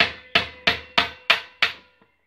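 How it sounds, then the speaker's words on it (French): Hammer striking an impact screwdriver driving tight screws, six sharp metallic blows in a steady rhythm, close and loud with ringing decay, followed by a faint small tap. "vous venez taper sur l'outil"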